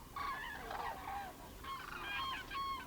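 European cranes call at a wetland stopover during migration, sending out loud, trumpeting honks in two bursts separated by a short pause, heard alone with no talk.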